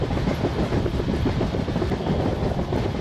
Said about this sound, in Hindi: कर्व पे दोनों ट्रेन एक दूसरे को क्रॉस कर रहे हैं।